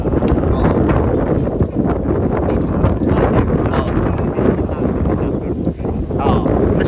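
Strong wind from Typhoon Fung-wong (Uwan) rushes and buffets the microphone continuously beside the Marikina River, a loud blustery roar with people speaking under it.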